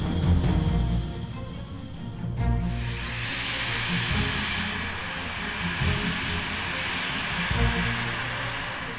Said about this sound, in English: The simple, effective, and survivable characteristics of the jet fitted with two General Electric TF-34 GE-100 turbofan engines make it a flying beast.